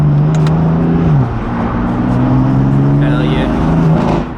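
A BMW F82 M4's turbocharged engine with front-mount intakes revs loudly and close in Sport Plus mode, its pitch dipping and rising with a faint high turbo-spooling whine, while a man exclaims briefly.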